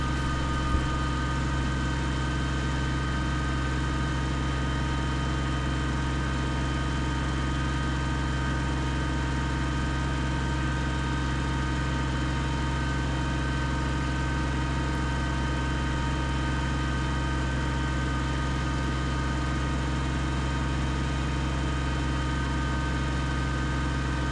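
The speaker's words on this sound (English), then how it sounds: "A lot of effort for this little tractor to make it up that hill pushing that much snow." Small Kubota BX25D tractor engine laboring steadily while pushing a heavy load of snow uphill, a constant loud drone and hum with no break over the whole stretch.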